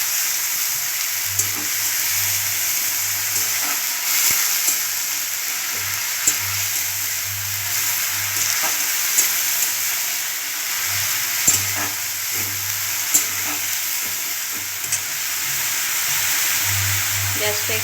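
Ginger garlic paste sizzling in a pan with already fried onions, a steady loud hiss of frying with intermittent stirring clinks and scrapes throughout, no voices.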